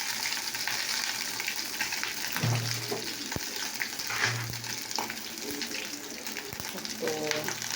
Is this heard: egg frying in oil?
yes